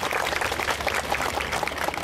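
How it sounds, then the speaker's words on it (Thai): Audience at a Rayong luk thung orchestra concert clapping in steady, even applause, a dense patter of many hands throughout, with no talk over it. "ปรบมือให้กับคนสู้ชีวิตระยองทุกคนเลย"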